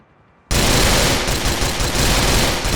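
Golden Uzi firing in GTA: The Ballad of Gay Tony: after half a second of near silence, a loud, dense burst of rapid automatic gunfire runs on without a break to the end.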